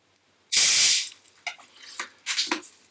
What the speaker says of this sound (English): tiny touch of soda water.